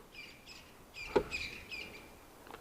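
A spurfowl's loud territorial call rings out in repeated bursts, harsh and carrying, with a brief louder note in the middle and faint background hiss.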